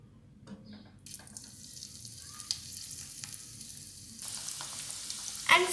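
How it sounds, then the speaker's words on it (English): Moong dal pakodas deep fry in oil in a wok over a medium flame, making a steady close sizzle that swells partway through and ends in a brief clatter. "now you have to deep fry these pakodas on a medium flame"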